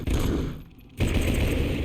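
Gunfire from a weapon in the video game RoboCop: Rogue City, a loud dense burst of rapid shots that breaks off for a moment and then resumes just as heavily.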